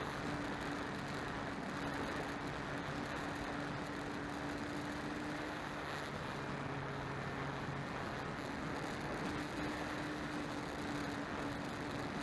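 Steady, loud motor drone of an eHawkeye Weekender powered glider at full throttle, captured from an onboard camera in flight; a continuous even roar with a faint hum running through it, no talk.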